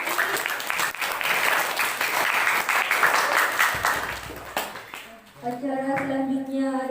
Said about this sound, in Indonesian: marilah kita memberikan tepuk tangan yang meriah untuk Vicky Estiati